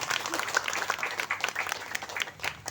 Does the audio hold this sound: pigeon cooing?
no